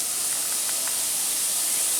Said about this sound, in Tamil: சோம்பு நல்லா பொரிஞ்சிருச்சு